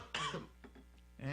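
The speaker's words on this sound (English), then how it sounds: "clearing the throat cough type thing" A recorded throat-clearing cough played on a talk radio show: a harsh, raspy burst near the start, a few faint throaty rasps in the middle, then another rough clearing at the end.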